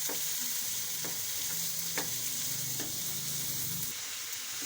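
Chopped vegetables including capsicum and cauliflower fry in a pan: a steady, close sizzle runs throughout, with a few soft clinks and scrapes of stirring. No one speaks.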